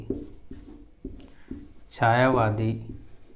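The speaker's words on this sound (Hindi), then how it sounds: "तो लिखेंगे छायावादी" Pen scratching across paper in short strokes during a Hindi grammar lesson, steady light writing sounds running under a man's speech.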